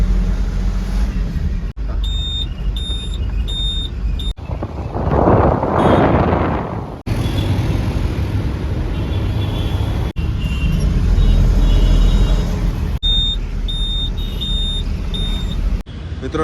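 A loaded vehicle pulls away and drives on a cold morning, with a steady broadband engine and road rumble and gusty wind on the microphone throughout, and a brief burst of louder noise midway.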